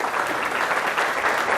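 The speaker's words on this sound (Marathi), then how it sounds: "स्मितासाठी जोरदार टाळ्या व्हायला पाहिजे" An audience applauds at a stage event in Nashik, a dense, even wash of clapping from many hands that carries steadily from start to end with no voices over it.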